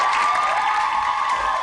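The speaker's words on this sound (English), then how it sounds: "Big round of applause," A game show studio audience claps steadily and dense at a 1995 Carmen Sandiego quiz program, a short sustained wash of applause with faint cheering.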